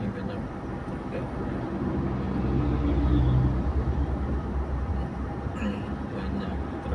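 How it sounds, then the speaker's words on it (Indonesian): Trucks drive past on a highway, heard as a steady broad road rumble from inside a diesel Innova Reborn, with a swell of passing traffic in the middle. "Ini banyak truk ya."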